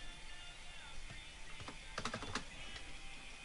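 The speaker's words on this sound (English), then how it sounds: "and I'll just type in." Keys on a computer keyboard are pressed to type into Notepad, giving a few soft, quick clicks clustered near the middle over a steady background hiss.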